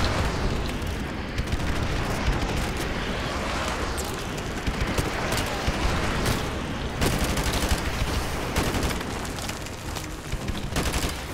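Sustained gunfire in CoD Modern Warfare Remastered, dense bursts of automatic weapons and booming impacts rolling on continuously at high level with no let-up.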